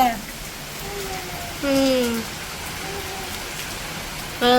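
Steady rain hisses in the background while a person speaks in short phrases over it, the downpour continuing without a break.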